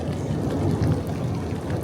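Steady heavy rain hisses and patters without a break over a reservoir, a dense wash of noise with a low rumble underneath.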